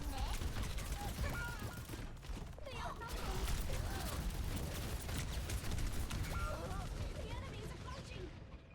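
Full-auto gunfire in a multiplayer video game, rapid crackling bursts layered over one another at moderate volume and running continuously beneath players chatting.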